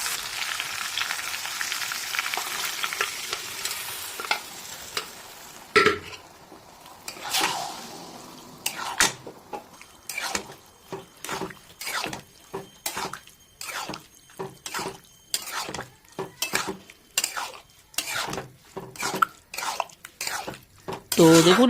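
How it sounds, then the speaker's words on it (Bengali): Boiled dal being stirred into egg tarka in a pan, a run of quick scraping, clattering strokes with a faint sizzle underneath, steady and fairly close, with a few pauses between bursts. "এই দেখুন ভালো করে মিক্স করে দিলাম"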